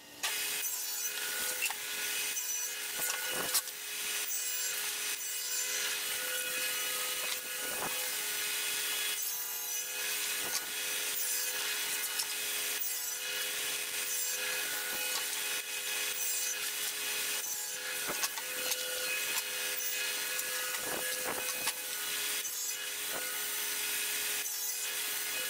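Wood pieces for box newel posts being cut to 20 inches on a saw give a continuous bright, rasping whine with small clicks and bumps throughout, steady and fairly close with no talk.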